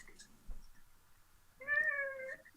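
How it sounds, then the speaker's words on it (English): A cat gives a single clear, drawn-out meow nearby, loud against a quiet room after a brief faint sound, during a home darts league match. "Can you hear a cat? I can hear a cat."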